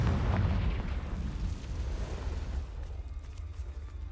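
A fire-blasting spell detonates in a wizard video game, a loud boomy explosion with a deep rumbling tail that slowly thins out over several seconds, no talking.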